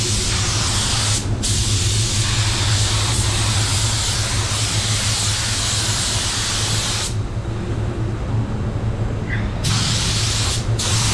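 Steady, loud hiss of a paint spray gun running almost continuously, with a few brief pauses where the airflow cuts out.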